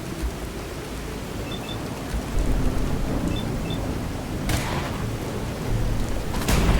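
Thunder rumbles through a radiation storm in Fallout 4 with the True Storms mod, a dense continuous roar of rain and low rumble with sharper cracks breaking through near the middle and end.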